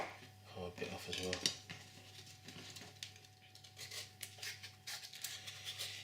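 A knife cuts away the hard stalk end of a pumpkin for soup, making close, quiet scraping and tapping against a board, with a few clicks and rubs over a steady low hum.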